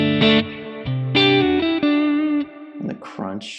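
An electric guitar played through a clean amp tone captured from a Tonex and run on a Nano Cortex, ringing notes and chords with sustained decay, heard alone and clearly up front.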